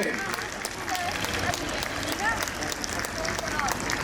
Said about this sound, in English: Everybody should clap and encourage him.